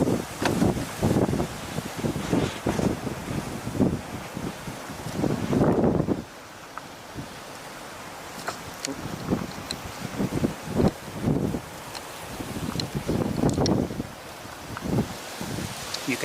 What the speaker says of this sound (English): You can see the wind is really blowing.